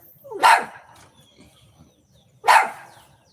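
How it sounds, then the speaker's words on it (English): A dog barks twice, loud and close, with a couple of seconds of quiet between the two sharp barks. "You don't even know what you're barking at."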